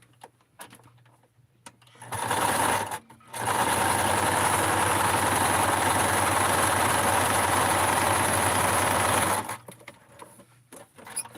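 A sewing machine stitches Blythe doll shorts in a short burst, then a brief pause, then a long, steady run of rapid needle chatter lasting several seconds before stopping, with quiet room sound on either side.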